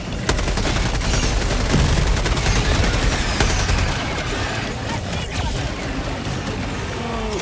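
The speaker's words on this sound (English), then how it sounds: "Is that the walking barrage?" Artillery shells from a walking barrage in Helldivers 2 pound the ground in a dense, rapid string of loud blasts and crackling impacts that thin out toward the end.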